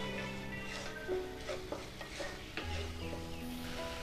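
Paneer masala roasts in a pan under quick, repeated stirring, a soft continuous sizzle punctuated by rapid spoon scrapes and faint clinks, heard up close without talk.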